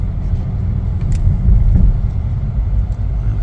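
Chevrolet Trax on a test drive, its engine giving a steady low rumble with road noise that swells briefly as it pulls away, close and continuous, with no talk.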